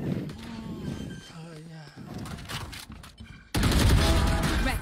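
Video game gunfire breaks out as a loud burst of rapid shots near the end, following a stretch of game voice lines and sound effects.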